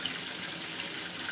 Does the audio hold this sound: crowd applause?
no